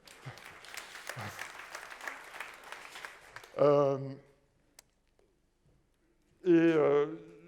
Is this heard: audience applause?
yes